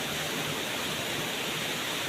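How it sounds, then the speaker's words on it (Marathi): Strong water flow in a stream along the Pavankhind trail, a dense, constant broadband rush that holds evenly throughout with no voices. "पाण्याचं पण जोरात प्रवाह आहे इथं."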